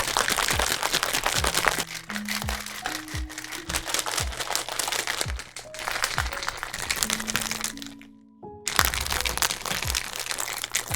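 A G Fuel shaker bottle holding Electric Shock drink mix is shaken hard, giving rhythmic crunchy rattling and sloshing bursts that are loud and close, with a brief pause near the end before the shaking resumes.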